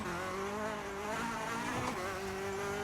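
An F2 kit rally car in EA WRC howls at high revs, its engine note wavering through gear changes with a steady, constant loudness and no voices.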